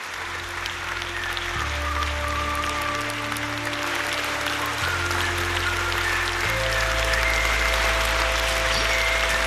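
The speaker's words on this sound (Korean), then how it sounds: "박수 치네 그래도" A concert crowd applauds a rock band in Pyongyang, with steady clapping running beneath sustained low musical tones that shift pitch in blocks.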